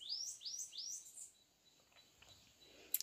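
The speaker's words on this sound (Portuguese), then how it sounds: "Cedinho, o cantar do passarinho é lindo demais." Several birds chirp and tweet in quick bright repeated calls at the start, fading after about a second and a half, in an early-morning rural setting with fruit trees such as jackfruit.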